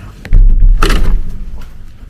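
A hotel room door slams shut with a loud, close thump, followed by a short fading rattle and the hush of the room.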